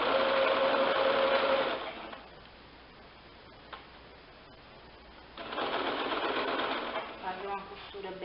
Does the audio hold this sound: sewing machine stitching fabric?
yes